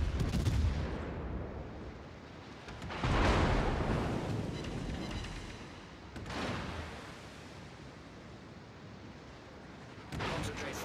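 A warship fires its artillery in the naval video game World of Warships, playing the Venezia; heavy booming salvos roll out at intervals, each blast swelling into a long rumbling decay over a constant low battle drone.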